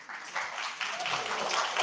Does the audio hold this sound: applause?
yes